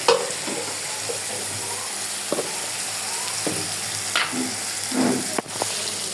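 Salt, spices and garlic paste fry in a pan for a pabda fish and potato bhuna, making a steady, close sizzle punctuated by several dull spoon knocks and scrapes.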